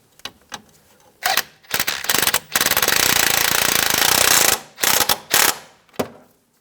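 A power ratchet or impact tool drives bolts into a strut bracket on a 2004-2009 Toyota Prius, loud rapid rattling bursts: several short ones, a sustained run of about three seconds, then more short bursts.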